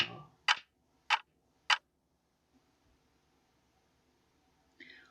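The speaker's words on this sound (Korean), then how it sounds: "똑딱똑딱 시간이 지나고 뚜껑을 열어보았어요" A clock ticks three times, crisp, evenly spaced and close, then falls quiet.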